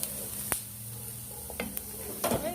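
Garlic frying in a pan gives a soft, low sizzle with occasional clicks and a clatter of a utensil against the pan, quiet and close.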